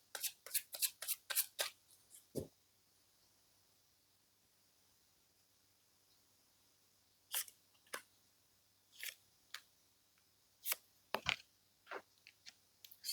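Tarot cards are shuffled in quick bursts of crisp riffling and flicking, a rapid cluster at the start and then scattered snaps after a pause, close and clear over a quiet background.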